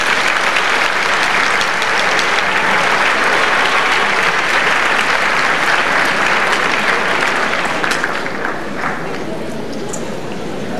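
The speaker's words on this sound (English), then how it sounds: "if we would join in some applause for Ernie Kilgore." A ceremony audience applauds an honoree at a high school distinguished alumni awards event; loud, sustained clapping fills the room with faint crowd murmur, easing slightly toward the end.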